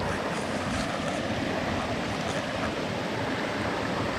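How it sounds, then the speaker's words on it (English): Water runs across a trail in a steady, dense rush like a small waterfall, loud and close with some wind noise, no speech. "we definitely got some water running down here"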